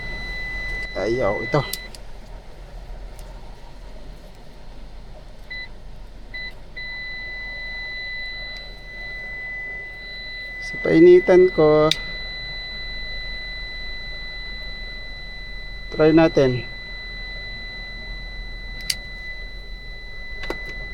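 A steady electronic buzzer tone sounds continuously inside a Toyota FJ Cruiser with a blinking A/C switch, while someone speaks in three brief bursts over it.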